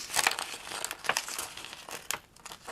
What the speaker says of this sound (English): I'm just going to cut my design, and I want this green butterfly